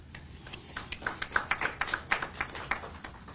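An audience at a book release event claps in a light, sparse round of applause, with distinct individual hand claps ringing out in an irregular rhythm for a few seconds and fairly faint overall.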